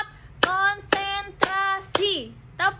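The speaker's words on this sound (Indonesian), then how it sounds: "Tepuk 1, yes. Tepuk 2, oke. Tepuk 3, semangat. Tepuk 4," A class of students claps along in a teacher's counting clap game: five sharp, evenly spaced group claps, each followed by the children chanting together.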